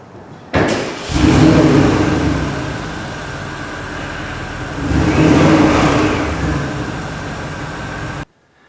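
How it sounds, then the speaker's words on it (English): A 2011 Porsche Cayenne Turbo starts with a sudden crank and catch, then revs up twice in strong surging swells before settling to idle and cutting off, heard loudly from outside the car. "I'll get inside, we'll fire it up, you can hear what it sounds on the outside,"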